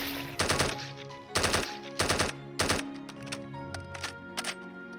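A Scar rifle from the Minecraft mod Vic's Point Blank fires in four loud, rapid automatic bursts, then a few lighter, shorter shots follow, with no talking.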